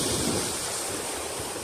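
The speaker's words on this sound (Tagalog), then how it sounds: "Tabing dagat." Sea waves washing onto the shore at White Island in Mantigue, a short steady rush of surf mixed with wind noise and no voices.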